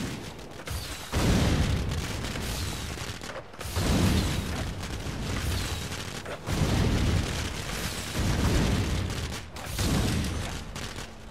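Fireworks burst repeatedly in the Tony Hawk's Pro Skater 5 video game at Bonfire Beach, a series of loud, booming explosions that come in about five heavy waves over a dense, crackling background.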